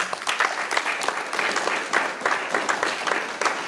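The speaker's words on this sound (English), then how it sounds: "Let's give him a round of applause" A crowd at a military change of command ceremony for the 63rd HHD applauds a First Sergeant, with dense, steady clapping that carries on throughout and no talk over it.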